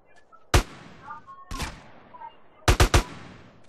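Gunshots in GTA San Andreas during a DYOM mission: a single sharp shot, a second shot a second later, then a quick burst of three, loud and punchy with short decaying tails and no talking.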